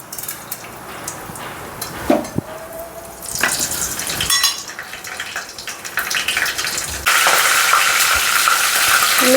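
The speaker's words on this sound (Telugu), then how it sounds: "కొంచెం ఆయిల్ పోసుకొని పోపు గింజలు వేసుకోవాలి." Tempering seeds hit hot oil for a taro root tamarind curry, bursting into loud crackling sizzle with clatter and a sharp clink, the frying growing louder and denser toward the end.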